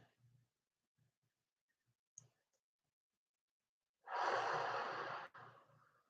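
Deep, slow exhale through the nose during a guided relaxation session, a long airy rush of breath lasting about a second, close to the mic after several quiet seconds with only faint soft breaths and small clicks.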